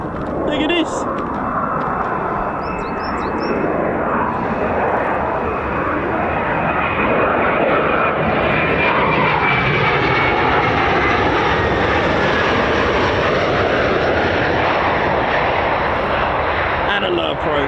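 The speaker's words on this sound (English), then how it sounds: "See, there's an aircraft coming in. That's just so weird. F-35." An F-35 fighter jet on a low approach near RAF Lakenheath makes a loud, continuous engine roar that swells and holds for the whole stretch. People talk over it.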